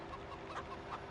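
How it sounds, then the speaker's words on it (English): Chickens clucking on a farm in the video game Farming Simulator 17, a few soft, faint clucks over a quiet steady background. "Move, chickens."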